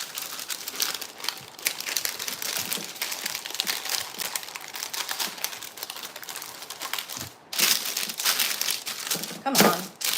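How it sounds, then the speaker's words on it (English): Parchment paper crinkles and rustles as it is spread over an epoxy tumbler on a desk, close and busy for several seconds, with a few louder crackling bursts near the end. "This is my parchment paper. I'm just going to lay this over the top of it so it doesn't make a mess all over my desk."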